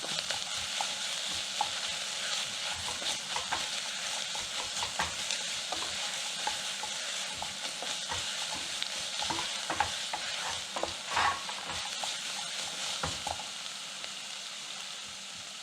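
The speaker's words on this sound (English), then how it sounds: "So we're going to add the garlic. And we're just kind of cook them with the onions for about 30 seconds." Garlic and onions sautéing together in a pan for a Hungarian mushroom soup, a steady soft sizzle with frequent stirring scrapes and clicks, close and continuous with no talk.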